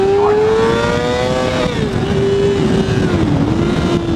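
A bone-stock 2014 636 sport motorcycle revs hard in first gear toward top speed, a loud, steady high engine whine climbing and then holding near the limit, close and alone.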